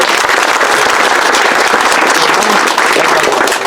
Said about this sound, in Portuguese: Uma salva de palmas para o companheiro.